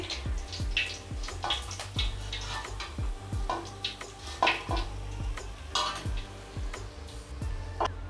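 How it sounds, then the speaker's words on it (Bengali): Fried katla fish pieces are lifted one by one onto a plate, with irregular metallic clinks and scrapes of the utensil against the pan and plate over a soft oil sizzle, close and moderately loud throughout. "মাছগুলো আমি সুন্দরভাবে ভেজে নিয়েছি। এবার একটা করে থালায় তুলে নিচ্ছি।"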